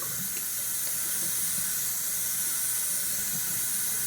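A bathroom tap runs steadily into a sink for a shaving rinse, a continuous even hiss of splashing water close by with no talk.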